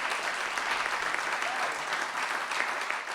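A large audience at a motivational event claps continuously, a dense, even wash of applause that holds steady throughout with no clear voices on top.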